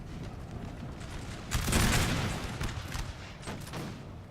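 Musket volley fire on French troops in the battle game Napoleon Total War, a dense crackling fusillade swelling into a loud burst midway before scattered shots trail off.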